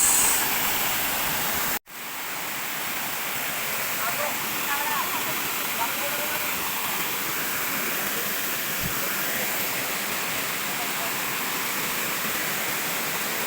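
Steady, loud rushing roar of Balagbag waterfall, broad and continuous with a brief dropout near the start, the water dominating throughout.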